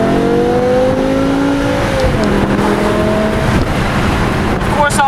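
A 12-year-old BMW M5 engine revs and roars after crash repairs, pitch climbing then settling, loud and close, with a few faint clicks near the end.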